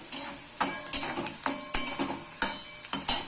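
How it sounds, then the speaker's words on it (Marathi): Salt, asafoetida and turmeric sauté in hot oil in a pan, with a constant sizzle and about seven crisp, evenly spaced stirring scrapes close by, no voices. "आपण मीठ हिंग हळद टाकून घेऊया चांगले परतत राहूया"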